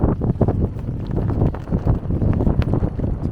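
Strong wind buffets the microphone by the Magdalena River in Barranquilla, Colombia, a loud, gusty rumble with no other clear sounds.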